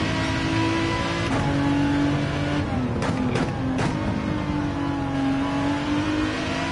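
Gran Turismo 7 Group 3 race car at Bathurst, engine revving steadily and shifting up early, with pitch dips at each gearchange and a brief tyre or kerb rumble midway, loud and continuous throughout.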